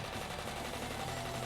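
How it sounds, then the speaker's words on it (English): Machine gun fire in the video game Higurashi: When They Cry, a quick, muffled, rattling burst in a brief continuous stretch, fairly quiet and with no talk over it. "The sound the machine gun made was a lot quieter than what people would imagine"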